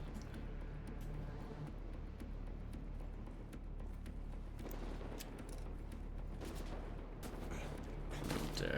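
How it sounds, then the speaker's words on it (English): Shotgun blasts and other gunfire in Wolfenstein: The New Order, a dense run of sharp bursts over continuous game noise, ending in a louder burst. "The shotgun."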